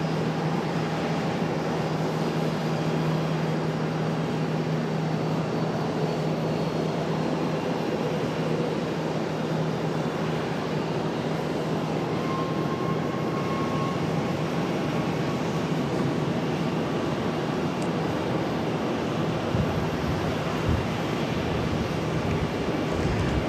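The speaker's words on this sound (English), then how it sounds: "We got an A321 on the move for American Airlines" American Airlines Airbus A321 jet taxiing at Charlotte airport, heard as a steady, moderately distant engine drone with a low hum and broadband rumble, holding even for the whole stretch with no talk.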